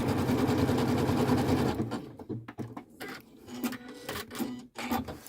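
A Janome sewing machine stitches in a fast, steady, close whirring run for almost two seconds, then stops and starts in short, uneven bursts with mechanical clicks as the stitch length is adjusted.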